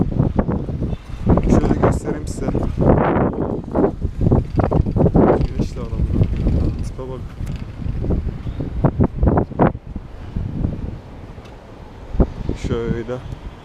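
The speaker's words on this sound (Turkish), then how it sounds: "Şu an rüzgar var çok pis." Strong wind buffets the microphone in a continuous low roar, with a person talking over it throughout.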